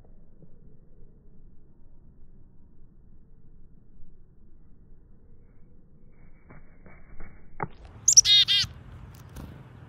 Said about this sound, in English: staring at this noisy bird